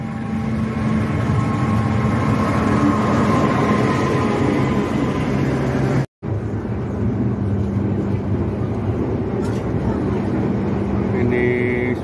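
Continuous rumble of the Argo Lawu passenger train in motion in Indonesia, steady wheel and carriage noise with a momentary dropout midway, heard from inside the car.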